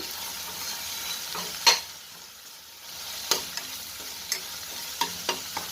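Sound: onion and ginger frying in a pan, stirred

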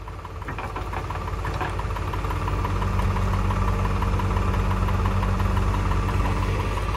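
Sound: tractor engine pulling a load

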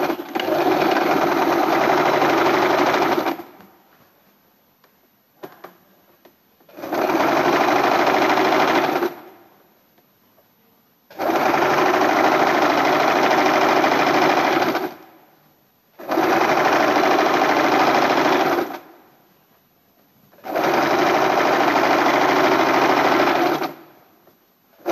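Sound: sewing machine stitching 1 mm from the edge

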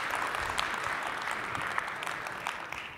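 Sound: audience clapping at tech talk

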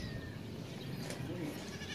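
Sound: goat bleating

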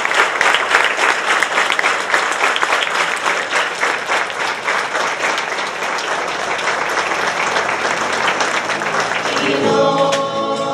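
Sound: applause at a funeral procession

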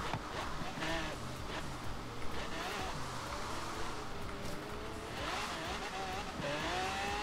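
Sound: Ford Mustang GT 350 engine and tires, from video game Forza Horizon 3

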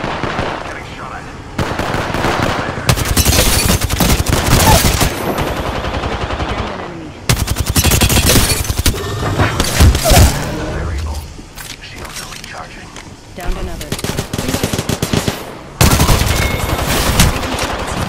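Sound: gunfire in a video game

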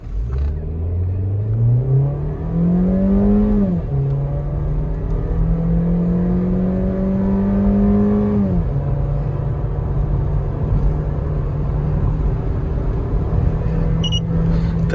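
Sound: Skoda Rapid 2020 1.6 car accelerating at full throttle

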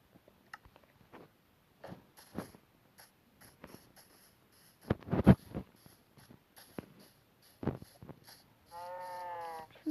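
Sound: sheep bleating

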